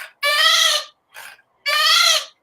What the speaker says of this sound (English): This one is the goat.